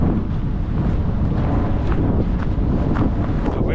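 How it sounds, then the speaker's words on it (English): Strong wind gusts buffet the microphone on a cold beach at a regional park, a loud continuous roar with rushing surges and no speech. "The winds are just crazy right now. It's very windy."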